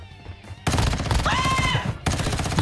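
Automatic weapon fire from a Warzone Mobile match rattles loud and close in rapid bursts after a short quiet opening, briefly pausing and then resuming until the end.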